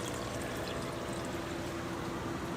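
Water pours and trickles continuously through a pump-fed overhead algae turf scrubber over an aquarium tank, a steady close splashing flow with no voices.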